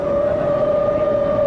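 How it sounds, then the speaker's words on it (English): A civil defense siren in New York wails during a daylight atom bomb drill, with a steady, piercing tone, loud and unbroken throughout. "The siren's wail sends New York's inhabitants to shelter."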